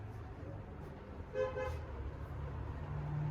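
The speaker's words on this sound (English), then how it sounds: "I don't know if you can hear the horn outside" A short car horn toots once in the distance over a low, steady hum of background noise, with a brief word spoken nearby.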